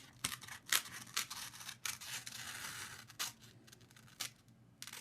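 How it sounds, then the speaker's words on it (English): Scissors snip through embroidery stabilizer in a series of short, close crisp cuts and rustles, quiet and irregular, with no speech. "So you just cut the stabilizing."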